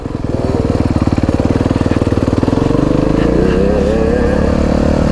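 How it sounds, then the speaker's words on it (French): A 125 motorcycle on a motocross track, its engine loud and close with a steady rapid rumble that holds a constant pitch, then rises slightly as the rider accelerates. "Donc Julie, elle a une 125 XLS d'habitude pour faire un peu d'enduro avec son papa"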